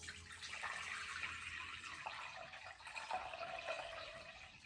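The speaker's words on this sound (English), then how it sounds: "So I'm just gonna pour some water into our bowl." Water pours into a bowl for a classroom sink-or-float experiment, a steady, soft splashing trickle that changes slightly in pitch as the bowl fills, heard alone without speech.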